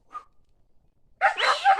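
Tied-up dogs give a short faint yip, then after a silent gap break into close, loud barking mixed with whimpering whines.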